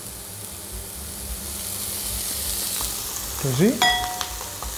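Shrimp and zucchini brown in olive oil in a pan, a steady close sizzle and hiss throughout, with utensils clinking and scraping briefly near the end and a person speaking Italian over it.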